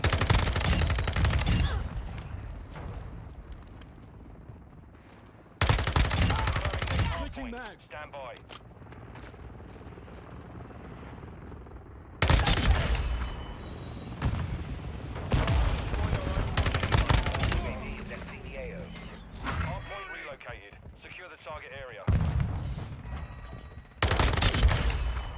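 Rapid bursts of submachine gun fire from Modern Warfare 2 multiplayer, loud and close, cutting in and out in several sustained volleys with quieter gaps of game ambience and occasional talk between them.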